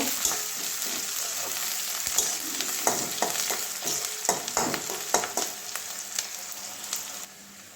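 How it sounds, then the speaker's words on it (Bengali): Garlic frying alongside onions in a pan for a fish-head and ash gourd curry, a steady loud sizzle with repeated sharp scrapes and clicks of stirring throughout, no talk. "কয়েকটা রসুন তেতো করে নিয়েছি ওটাও দিয়ে দিচ্ছি পেঁয়াজের সঙ্গে ভেজে নেব"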